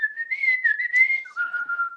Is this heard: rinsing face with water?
no